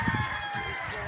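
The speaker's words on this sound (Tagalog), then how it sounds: "Ang dami-daming mga manok." Chickens in a crowded coop cluck and crow nearby, a short, busy mix of calls over steady background noise.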